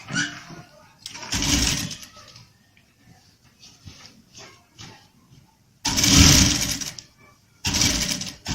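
A sewing machine runs in loud bursts while stitching a kurta seam, with quieter handling and faint speech between runs.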